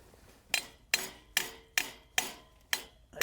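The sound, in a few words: hammering a stake into the ground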